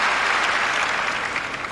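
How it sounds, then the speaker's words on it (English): Steady, dense applause from a large crowd at the 1988 Wimbledon tennis match between Martina Navratilova and Chris Evert, continuous and fairly loud throughout with no break. "People started clapping."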